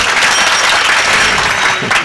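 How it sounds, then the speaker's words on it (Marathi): A kirtan audience claps together in dense, loud, continuous applause that fills the whole moment without a break. "तुम्ही तुमच्यासाठी एकदा जोरात टाळी वाजवा."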